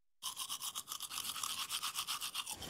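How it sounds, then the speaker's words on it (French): Toothbrush scrubbing teeth in quick, rhythmic back-and-forth strokes, close and clear, starting abruptly and continuing steadily for under three seconds. "Allez, on se brosse les dents."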